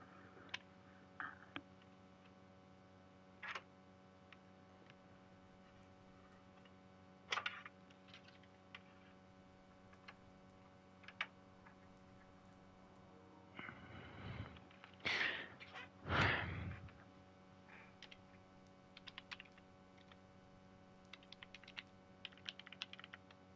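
Sparse keyboard keystrokes tap on a computer keyboard plugged into a PlayStation, a few isolated clicks scattered through a quiet stretch with a brief cluster of louder clatter near the middle; no talking.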